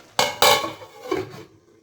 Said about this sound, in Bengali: চলো এটাকে ঢাকা দিয়ে দিই